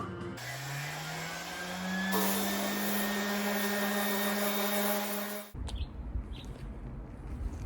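A power sander fitted with 40-grit paper strips lacquer from a century-old double-neck guitar. Its motor whirs up to a steady, close whine with coarse abrasive hiss for about five seconds, then cuts off abruptly, leaving light handling noise.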